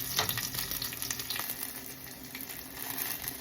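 Garlic frying on low heat in a pan gives a steady, close sizzle flecked with small crackling pops, with no voices over it.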